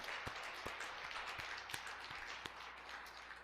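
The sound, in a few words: church congregation applauding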